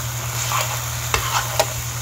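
Pure Foods chicken tocino frying in a pan without oil, a steady close sizzle broken by a few sharp scrapes and taps of a utensil stirring.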